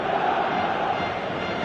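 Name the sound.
football crowd noise in a video game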